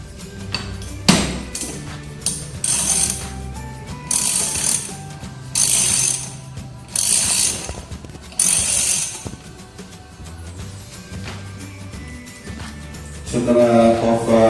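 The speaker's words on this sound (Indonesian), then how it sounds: "kita kencangkan baut pengikatnya menggunakan bantuan ratchet handle dengan extension socket ukuran 13" A ratchet handle on a size 13 extension socket tightens the cylinder cover bolts on a diesel engine, giving several short bursts of clicking ratchet strokes separated by pauses, close and fairly loud.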